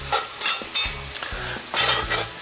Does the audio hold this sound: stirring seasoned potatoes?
yes